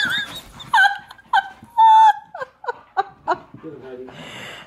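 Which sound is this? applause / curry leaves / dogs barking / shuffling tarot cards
dogs barking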